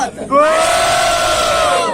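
Crowd at a Takaharu Urano square competition, Moringa vs RJ first round, letting out a loud sustained roar of shouting and cheering that swells after a brief lull and holds steady to the end.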